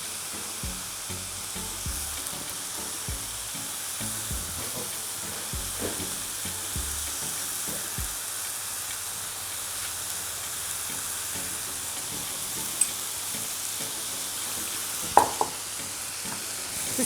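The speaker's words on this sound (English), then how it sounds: "I'm going to add the canned tomatoes. Just going to grab them and squish them." Canned tomatoes frying in a hot pan on full heat give a steady, fairly quiet sizzle throughout, with a few soft stirring knocks early on and a couple of sharp clicks near the end.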